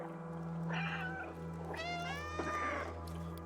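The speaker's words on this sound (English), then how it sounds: "Just left alt to meow." A cat character in the video game Stray meows twice, short and close, over a faint steady game ambience hum.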